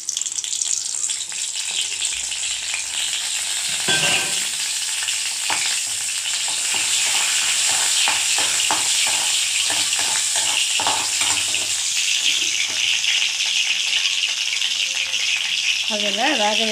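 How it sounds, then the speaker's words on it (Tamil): Spices crackle and sizzle in hot oil in a kadai, with bursts of popping and stirring scrapes over a steady frying hiss, close and fairly loud; a voice talks briefly at the end. "தேவையான அளவு எண்ணெய் சேர்த்துக்கிட்டு தாளிக்க எடுத்து வச்சுருக்கோம் இல்லைங்களா மசாலா சாமான்"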